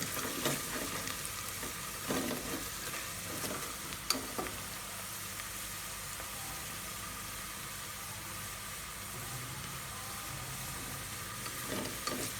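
Onions for chicken karahi fry in a wok with a constant broad sizzle, with occasional soft scrapes of stirring and a single brief clink near the start.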